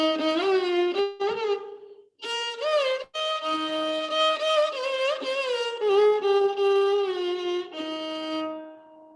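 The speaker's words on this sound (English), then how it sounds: "It basically becomes a raga called Shankarabaranam" Carnatic melody in raga Shankarabharanam, a single sustained melodic line with ornamented gamaka bends and slides, played close and continuously with a few brief pauses.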